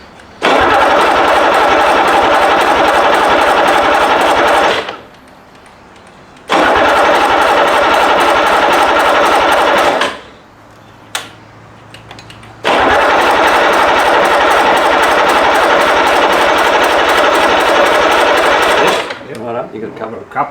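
A rebuilt BMW D190 marine diesel engine cranks and runs in three loud, close bursts of harsh, rapid clatter, separated by pauses of quiet and a brief lower tone, with the last run tapering off.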